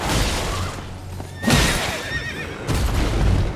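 A horse in the video game Elden Ring whinnies loudly, followed by further neighing and rustling over a continuous game-like background.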